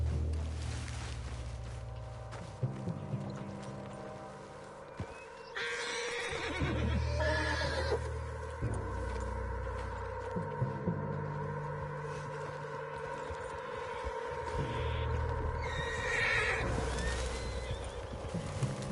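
A horse in the Red Dead Redemption 2 video game whinnies and snorts, with clip-clopping hooves and shifting game ambience around it, the calls recurring several times at moderate volume.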